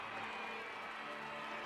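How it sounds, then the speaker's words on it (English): A large crowd outside a royal wedding sends up a steady, distant roar of cheering and applause for the bride and groom, continuous and fairly faint throughout. "you can hear the welcome from the crowd"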